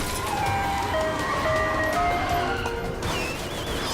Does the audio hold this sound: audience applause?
no